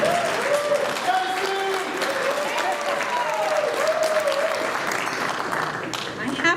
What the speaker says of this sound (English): You get the biggest applause.